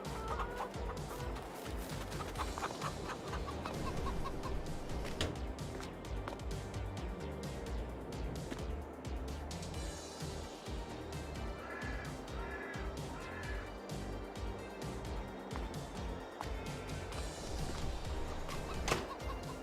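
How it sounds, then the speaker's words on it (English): Chickens in Farming Simulator 22 cluck continuously over a dense, steady bed of background noise, their clucks blending into a busy, unbroken farmyard chatter. "Chickens."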